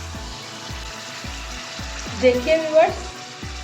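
Garlic and ginger paste frying in oil for a chicken white karahi, with a steady sizzle and regular scraping stirs, and a brief spoken phrase partway through.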